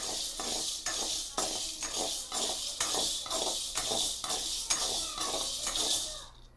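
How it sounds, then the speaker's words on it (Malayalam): Dry rattling and scraping of white cowpeas being dry-roasted and stirred in a pan, in repeated rhythmic strokes, close and fairly quiet. "വെള്ളപ്പയർ എന്തിനാ വറുത്തെടുക്കുന്നത്"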